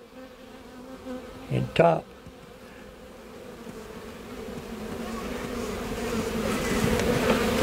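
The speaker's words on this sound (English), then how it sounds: "A lot of bees on it." Honey bees crowd on sugar in a hive, giving off a steady buzzing drone that grows louder over several seconds, with a brief spoken voice and a knock near the start.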